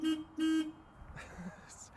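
Plymouth Superbird horn giving two loud, tonal honks in quick succession, a short toot then a longer one imitating the Road Runner cartoon character's beep, followed by quieter background noise.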